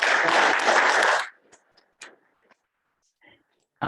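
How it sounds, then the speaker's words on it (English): A workshop audience gives a keynote speaker a burst of applause that lasts about a second before cutting off into near silence, with a few scattered taps and clicks and another brief burst at the end. "Let's give a big applause to Chris."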